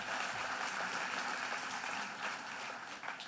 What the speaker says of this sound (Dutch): Applaus zou ik willen zeggen.